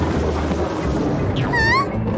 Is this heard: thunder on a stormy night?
yes